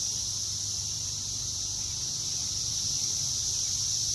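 Cicadas drone steadily and densely, a continuous high-pitched buzz with a low hum underneath, unbroken from start to finish.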